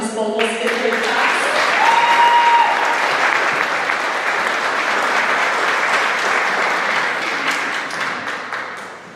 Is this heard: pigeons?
no